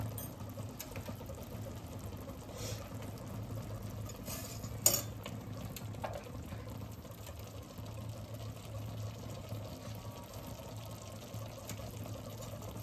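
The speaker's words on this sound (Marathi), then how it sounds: "हे मसाले चांगले शिजून बाजूला तेल सुटेपर्यंत ह्याला हलवून घ्यायचं" Chole masala spices with salt cook in oil in a pan for chole bhature, stirred with a spoon: a soft sizzle with occasional scrapes and one sharper clink, faint and close without talk.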